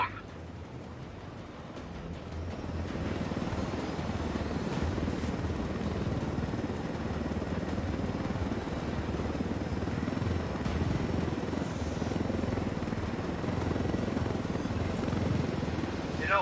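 Helicopter in flight, a continuous close, throbbing rotor drone with a low rumbling engine underneath, holding steady for the whole stretch after a brief quieter start.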